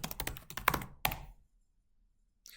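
Quick clattering keystrokes on a computer keyboard, close and fairly soft, run for about a second and then stop, leaving near silence before a faint noise at the end.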